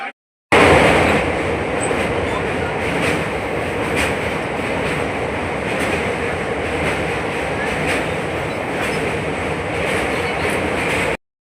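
Steady rumble and rhythmic clatter inside a moving passenger train on the way to Naihati, continuous and fairly loud throughout, with faint voices now and then beneath the rolling noise.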